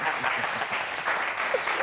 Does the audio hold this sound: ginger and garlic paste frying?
no